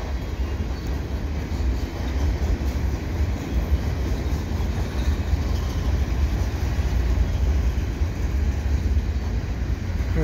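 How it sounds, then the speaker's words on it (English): A long CSX freight train rolls by in winter with a steady, heavy low rumble and continuous wheel and car noise, sounding constant and close for the full duration. "CSX train is pretty long."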